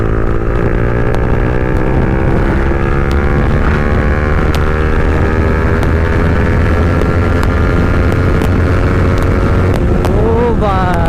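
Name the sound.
motorcycle exhaust backfiring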